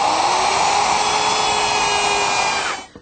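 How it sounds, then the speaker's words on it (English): A router fitted with a pattern maker's bit, its large ball bearing riding against a plywood edge, whines steadily and loudly while trimming, then spins down and stops near the end. "By using this pattern maker's bit, which has a large ball bearing on the top, which will ride against the plywood edge"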